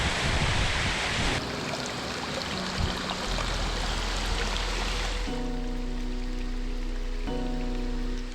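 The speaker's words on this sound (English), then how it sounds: "This is the time of year when its cascading waters are at their peak flow." Steady rushing water of a waterfall at peak spring flow in Spearfish Canyon fills the scene, a constant broad roar like cascading falls, with a low tonal hum entering partway through.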